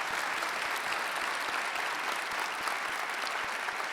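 Sustained audience applause fills a school event hall, a dense, steady wash of many hands clapping at full strength for the whole stretch, with no voices standing out.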